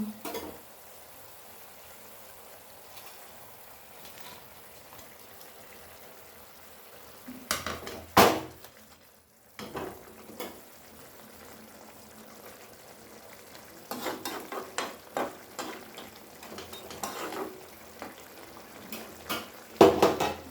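Tangra fish goes into a spiced gravy in a pan: a low, quiet simmer broken by a few louder bursts of pan clatter, stirring and sizzle.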